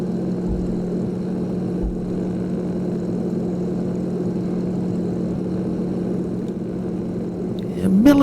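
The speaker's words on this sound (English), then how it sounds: "Military trainer kind of aircraft, and looking at this we might be doing some low-level military style flight training today" A propeller-driven military trainer aircraft in flight gives off a steady, droning engine hum heard from inside the cockpit, continuous and even throughout, with a faint voice near the end.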